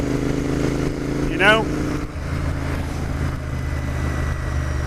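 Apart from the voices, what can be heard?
Royal Enfield Interceptor 650 motorcycle engine during test ride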